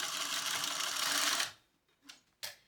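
A sewing machine runs in one fast continuous burst for about a second and a half while basting a pocket onto a fabric wallet, close and clear, followed by two brief clicks.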